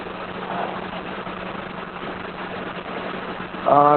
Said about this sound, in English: So here the facing and turning operation is going on.